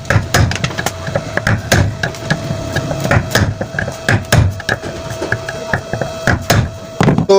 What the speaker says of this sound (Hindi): तो हम इसको पेचकस और हथौड़ी की मदद से तोड़ेंगे।